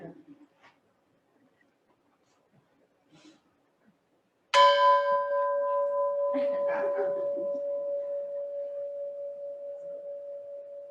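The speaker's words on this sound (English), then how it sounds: "The gong." A gong struck once after a few seconds of quiet rings out with a bright, shimmering attack and then a long, sustained tone that slowly fades, with faint soft sounds before the strike.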